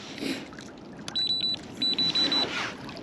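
A few electronic beeps from a fishing bite alarm while pike fishing with deadbaits on a lake, short bursts in quick succession over quiet outdoor background noise.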